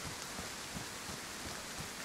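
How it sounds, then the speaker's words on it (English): Rain in the survival video game DayZ falls as a steady, even hiss of drops with faint low rumbles underneath, continuous and moderately loud, with no talking. "Oh, it's raining. I gotta go inside."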